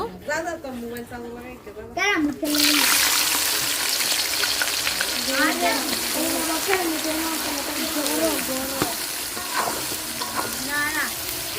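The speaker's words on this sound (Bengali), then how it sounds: "তেল গরম হয়ে গেছে তেজ পাতা দিয়ে দিব একটু লাল হয়ে গেছে আর পেঁয়াজ দিয়ে দিব" Bay leaf and onion go into hot oil for a meat curry. A loud, close sizzle bursts in after a short quiet stretch and keeps crackling steadily, with stirring and people talking over it.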